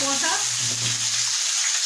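Ginger and cumin paste sizzles and spatters in a hot pan, with a brief voice at the start before the frying carries on alone.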